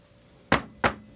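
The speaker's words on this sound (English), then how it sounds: "Knock on wood." Two sharp knocks on wood, close and loud, spaced about a third of a second apart, with no voices.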